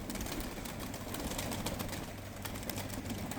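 A flock of kept birds, around fifty or sixty, gives a steady outdoor wash of cooing and calling with a soft rushing, fluttery noise throughout, fairly loud and continuous, with no talking.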